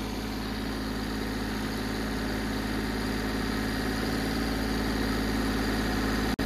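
A Mahindra Oja 2127 4WD tractor engine runs at 1800 RPM in low gear, a loud, unbroken diesel drone with steady low rumble and no pauses.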